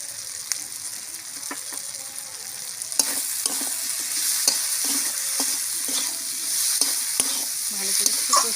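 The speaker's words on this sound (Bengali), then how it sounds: "ভালো করে একটু কষে নেবো।" Spices with chili powder, sugar and salt sautéing in a pan for koraishak chorchori, a constant close sizzle broken by frequent sharp stirring scrapes and clicks.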